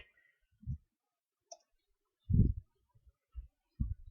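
Several sharp, quiet mouse clicks land at irregular intervals close to the microphone, separated by near silence.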